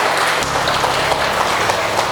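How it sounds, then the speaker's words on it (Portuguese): Steady crowd applause at a church service, praising the Lord, dense and continuous throughout with a faint rhythmic undertone and no break. "Pode dar uma salva de palmas para o Senhor"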